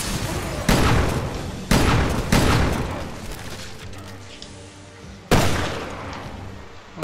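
Gunshots in the video game Resident Evil: Revelations 2, Raid mode: four loud, sharp shots with short reverberant tails, spaced unevenly over several seconds.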